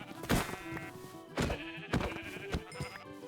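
Sheep in Minecraft give several nasal bleats, about four in a row spaced roughly half a second to a second apart, close and clear, with no talking.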